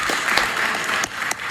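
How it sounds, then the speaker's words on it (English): An audience at a live-streamed interview applauds, a dense, steady burst of clapping from many hands, loud and close, lasting about a second and a half. "Oh, I didn't know they were allowed to applaud"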